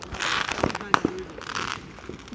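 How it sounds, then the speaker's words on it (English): Fireworks going off outdoors during a backyard firework contest, a few sharp pops and crackles scattered over a busy background with people talking nearby. "We're having like a firework off."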